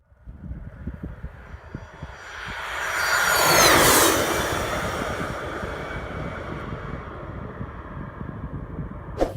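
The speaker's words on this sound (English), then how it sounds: "This plane doing a low pass." A fixed-wing airplane makes a low pass, its engine roar swelling to a loud peak midway with a falling whine, then fading into a lingering rumble, with no voices.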